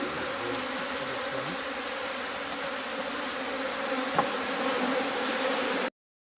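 A full hive of honey bees gives off a continuous, loud, even buzzing that fills the whole stretch before cutting off abruptly at the end.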